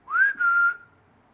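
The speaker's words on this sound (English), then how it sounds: "Whistle like this." A person whistles a single rising note that breaks off briefly and then holds steady, clear and close in a quiet room, with no talking.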